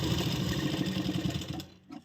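Sewing machine stitching the neckline of a kurti, a fast continuous whirring rattle of the needle close up and fairly quiet, slowing and stopping briefly near the end.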